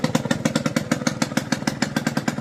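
A Yamaha 50cc two-stroke scooter engine, an old barn find, idling close up with a rapid, even, buzzy putter and a regular pulsing beat from the exhaust.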